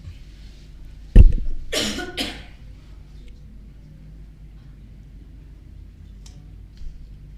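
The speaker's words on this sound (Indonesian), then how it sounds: "Tiba-tiba batuk." A burst of coughing, two or three harsh coughs close to the mic, followed by several seconds of near silence.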